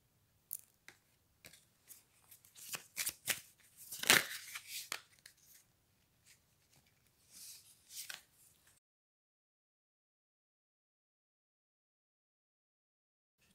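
Tarot cards handled and shuffled during a reading, giving crisp bursts of paper riffling and snapping, loudest near the middle. Shorter rustles follow before several seconds of silence.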